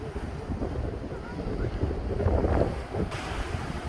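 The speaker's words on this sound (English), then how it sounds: "The waves are strong." Strong ocean waves roll in under heavy wind buffeting the microphone, a steady broadband roar with surges of surf, continuous and fairly loud.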